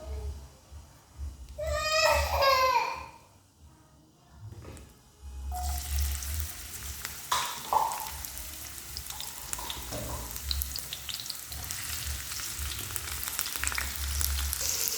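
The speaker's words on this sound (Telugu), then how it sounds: "ఈ ఆయిల్లోకి మనం కట్ చేసుకొని పెట్టుకున్న ఉల్లిపాయలు, పచ్చిమిర్చి, కరివేపాకు అనేది వేసుకుందాం" Chopped onions, green chilies and curry leaves drop into hot oil, a faint voice first and then a sudden loud, broad sizzle that stays steady and close, with occasional stirring clatter.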